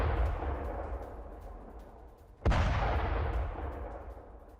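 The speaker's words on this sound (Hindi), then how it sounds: "आपको एक और वीडियो के जरिए दिखाते हैं कि किस तरह से यहाँ बमबारी की गई और नुकसान हुआ" A single deep, booming blast from a bombing strike at Karaj bridge near Tehran cuts through a low, continuous rumble, then rolls off slowly into the distance.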